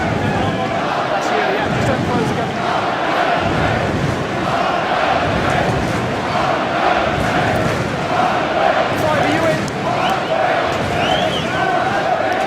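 Harlequins home crowd at a Premiership rugby match against Worcester, a steady roar of thousands of fans with rising shouts and chants, filling the stadium continuously under a commentator's voice.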